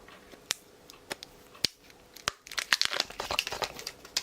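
Crisp crinkling and rustling of cardboard and plastic as an Apple Pencil 1st generation package is opened, with sharp clicks early on and a denser burst of crackling toward the end.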